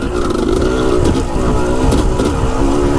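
A dirt bike fitted with a Lectron carburetor running loud and close just after a first-kick start, its engine holding a steady rough buzzing drone with slight fluctuations in pitch.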